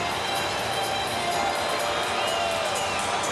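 Tampa Bay Rays fans cheering at a ballpark during a baseball game against Cleveland, a steady loud crowd roar with whoops throughout.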